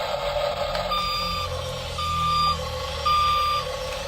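A 1:24 scale radio-controlled tracked toy excavator rotates on its base, its built-in sound effect playing steady electronic beeps in short repeated bursts over a faint motor whir.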